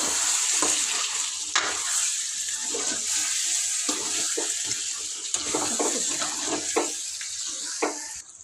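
Continuous sizzling of soft tomato in a hot frying pan for a drumstick chicken curry, with repeated scraping and stirring clatters throughout; no voices.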